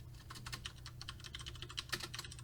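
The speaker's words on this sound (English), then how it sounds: "I'm going to go ahead and type in the file name here" Rapid, steady clicking of a computer keyboard as a file name is typed into Outlook, with close keystrokes running continuously over a low background hum.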